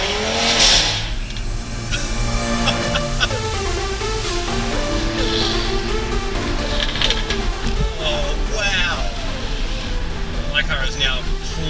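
A Stage 3 Audi RS3 making over 700 hp revs and accelerates hard, with rising and falling engine sweeps and sharp exhaust pops and bangs, loud and close, with voices talking over it.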